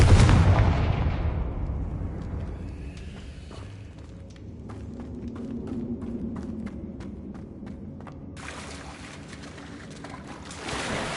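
A Confringo fire spell detonating in Hogwarts Legacy, a loud booming blast that rolls into a long rumbling decay, followed later by another burst of crackling impact.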